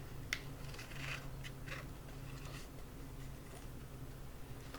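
Scissors snip through construction paper to cut out small berry shapes for a torn-paper wreath collage, giving a few soft, close cuts and rustles with no talking.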